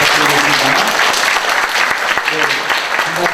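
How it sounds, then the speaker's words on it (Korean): Warm audience applause at a Korean public-sector innovation relay event, steady close clapping from a hall full of people, with a voice talking over it. "우리 안과장님께 우리 마음에 또 정성을 다해서 잘 들었습니다 하는 마음으로 박수 부탁드리겠습니다."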